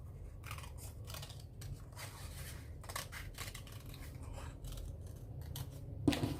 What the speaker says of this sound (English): I'm cutting.